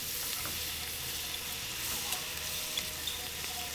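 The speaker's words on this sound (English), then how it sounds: "We can put the garlic in there while the butter is melting and make it nice and aromatic." Garlic sizzles in melting butter in a pan for shrimp scampi, giving a steady, even crackling hiss that stays constant throughout with no voices.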